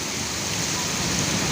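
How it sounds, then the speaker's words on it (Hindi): Heavy rain falls hard and steady, a dense continuous hiss close by with strong wind, the roar unbroken throughout. "तो बहुत तेज़ हो रही है बारिश"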